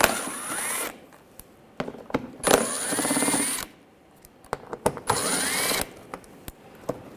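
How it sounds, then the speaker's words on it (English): A ratchet with an 8mm socket backs out fender liner screws underneath a 2007-2013 BMW 328i, giving close bursts of rapid clicking and whirring separated by short quiet gaps. "Now underneath, we're going to take these screws out. Use a 8mm socket."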